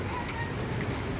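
Heavy rain pours down in Medina during Ramadan, a dense, steady broadband roar of downpour filling the whole short stretch, close and loud with no gaps.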